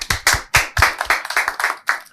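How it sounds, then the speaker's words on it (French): A small group at a live stage show claps for a participant named Muriel, about a dozen distinct, close, slightly uneven claps in a loose rhythm with brief gaps between. "On l'applaudit."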